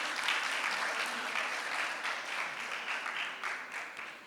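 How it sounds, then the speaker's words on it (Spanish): Audience applause at an international seminar on safe housing for women, a dense continuous wash of clapping from many people at moderate distance, easing off gradually toward the end. "Le pedimos un aplauso al público para Jacqueline."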